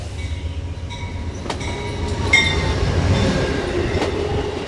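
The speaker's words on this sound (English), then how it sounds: "I was hoping I would be able to get to show you the train, and not only one, but two." A train passing through the small town of Ashland, Virginia, a sustained rumble of rolling wagons with clattering wheels and occasional sharp metallic squeals and clanks, steady and fairly close throughout.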